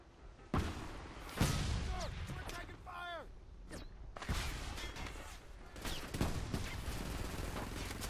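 Rapid gunfire in the war shooter Frontlines: Fuel of War, bursts of sharp shots and heavy thuds over continuous battle noise, with someone talking in Hindi throughout.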